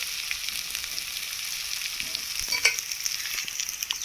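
Bitter gourd pieces fry in hot oil for kakarakaya pulusu, giving a continuous bright sizzle with a few light clinks of a utensil midway.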